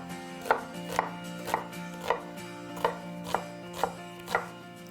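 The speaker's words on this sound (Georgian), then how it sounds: "პირველ რიგში დავჭრათ წითელი ხახვი" A knife cuts red onion into cubes on a board in eight evenly spaced, crisp chops, close up and clear against a faint steady hum, with no talking.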